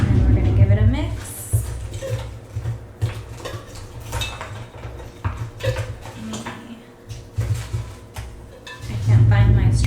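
Iced chai topped with vanilla cold foam being mixed, a spoon or straw clinking and scraping against a glass in quick irregular taps, close and clear.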